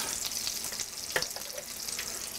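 Flautas, rolled taquitos, frying in hot oil give a steady bright sizzle with crackling pops, one sharper snap near the middle, all close and continuous.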